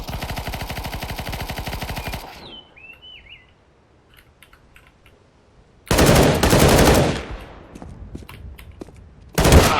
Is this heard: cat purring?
no